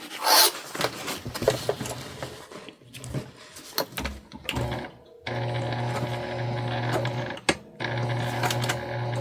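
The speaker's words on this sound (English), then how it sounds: "we're just going to come in here and we're going to stitch our lining pieces together" A sewing machine stitches bag lining pieces together for a bum bag, its motor whirring in steady runs broken by short pauses and fabric shifting, close and clear.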